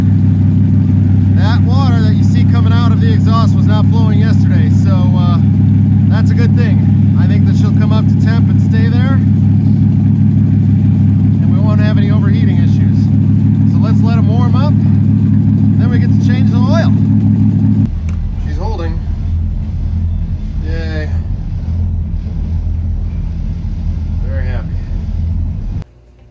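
Twin inboard boat motors run side by side, a loud, low, steady droning hum that drops to a different idle tone partway through, with people talking over the engine noise throughout.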